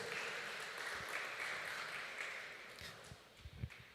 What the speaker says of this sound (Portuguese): Dê um forte aplauso por isso